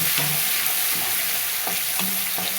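Garlic fries in hot oil in a pan for a green chickpea leaf bhaji, with a constant close sizzle and a few spatula scrapes as it is stirred.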